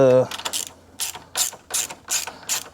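Ratchet wrench clicking as it backs a 10 mm bolt off the engine bay of a 2020 Subaru STI, five or six short bursts of rapid ratcheting in a steady rhythm, close and fairly loud with no talk.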